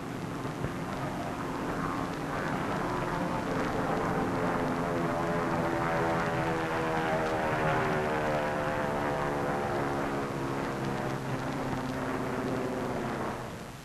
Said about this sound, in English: one of the drone airplanes flying over the target fleet after the blast.